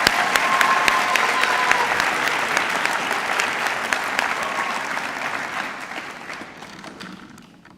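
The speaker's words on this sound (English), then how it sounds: "Can we get one more round of applause for our senior perspective?" A large audience at a high school graduation ceremony applauds with dense, steady clapping that gradually thins and fades out near the end.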